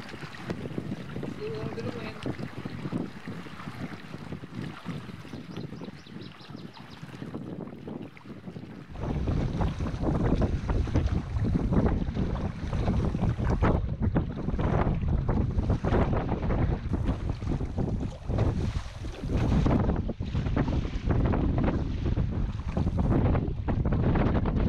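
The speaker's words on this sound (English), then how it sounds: "Another windy day on this lake" Strong gusty wind buffets the microphone over open water on St. Raphael lake during a canoe trip, a constant roaring rush that grows louder and rougher partway through.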